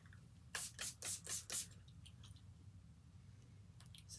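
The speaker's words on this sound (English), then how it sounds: "This is called a meditation spray" A meditation room spray bottle pumped five times in quick succession, each spritz a short bright hiss, followed by quieter faint spritzes near the end over a low background hum.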